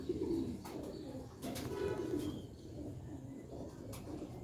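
Sialkoti roof pigeons coo softly in low repeated bursts, a couple of gentle rolling calls over faint background hum and a few distant sharp knocks.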